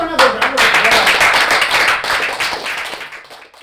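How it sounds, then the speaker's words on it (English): Audience applause with steady clapping from many hands, loud and close, tapering off toward the end. "Give him another round of applause."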